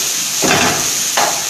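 A spiced potato filling with garam masala and chaat masala is stirred in a bowl, two distinct scraping strokes about three-quarters of a second apart over a faint hiss.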